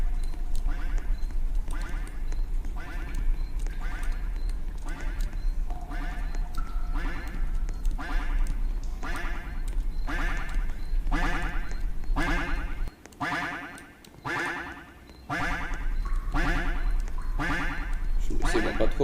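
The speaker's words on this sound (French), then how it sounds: "Méfiez-vous du canard." Loud, rhythmic duck quacks in a Roblox horror game repeat in steady bursts over a constant electronic hum, pausing briefly before resuming.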